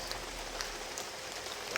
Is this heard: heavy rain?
yes